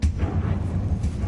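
Incendio fire spell cast in Hogwarts Legacy, heard as a loud close whoosh and low fiery rumble with a burst at the start, sustained over a short stretch with game ambience underneath.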